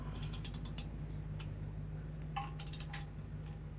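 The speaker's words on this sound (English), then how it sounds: "Now we're going to torque this bolt and nut to 37 foot-pounds." A torque wrench ratchets while tightening a control arm bolt and nut on a 2013-2015 Chevrolet Malibu, quick faint clicking bursts over a low hum, close and quiet with no talk.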